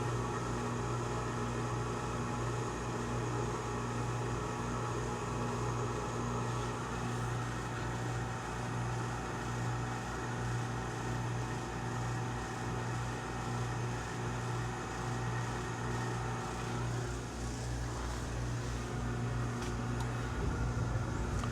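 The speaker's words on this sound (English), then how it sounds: "The gas just turned on. It fired up." A Bradford White gas water heater with its burner lit, giving a steady low drone and hum with a faint roar of the flame, continuous and close in a quiet room.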